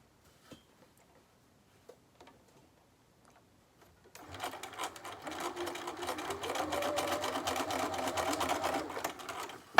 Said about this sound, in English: Just always baste it in place first, the strap.